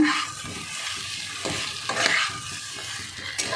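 Butter garlic potatoes are stirred in a sizzling pan, with repeated spoon scrapes and soft clatter over a continuous gentle frying hiss, close and fairly loud.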